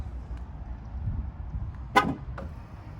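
A 2020 Ram 2500 Night Edition pickup with a 6.7L Cummins turbo diesel gives a single short horn chirp as it locks, followed by a fainter blip, over a low outdoor rumble.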